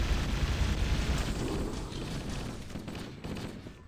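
Dense, continuous gunfire from plasma rifles in the video game Halo, a steady loud barrage with overlapping bursts that eases slightly toward the end, with no clear speech over it.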